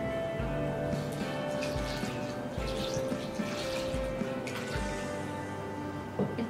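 Water poured over flattened rice (aval) in a bowl while rinsing it for a spicy kaara aval, a soft trickling and splashing with a few gentle drips, close and fairly quiet.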